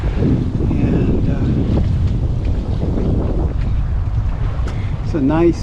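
Wind rushes steadily over a sailboat heading out of a harbor off Mount Desert Island, Maine, on a light-air day with a southeast breeze, a continuous blustery hiss with a person talking over it.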